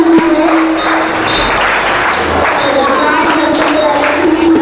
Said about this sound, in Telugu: Claps put your hands together to welcome our sir.